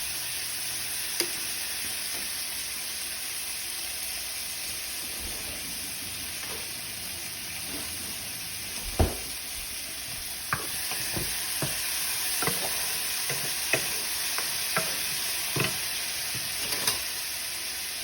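Spaghetti with cherry tomatoes and pesto is stirred in a hot pan under a constant bright sizzle, with scattered close taps and scrapes of a utensil that grow more frequent in the second half.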